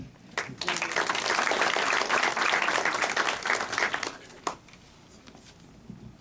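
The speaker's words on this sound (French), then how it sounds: "que je vous demande d'applaudir" An audience at an African film festival bursts into applause, a dense crackle of many hands clapping that holds for several seconds and then tapers off.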